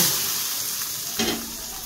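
Whole-spice tempering hits hot oil in a kadai of Bengali shukto, giving a close, brief surge of loud sizzling over a steady background of frying hiss.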